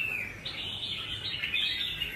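A caged songbird, a young wild-caught bird being trained for singing contests, chirps in a steady, high, continuous trill at moderate loudness with no one talking.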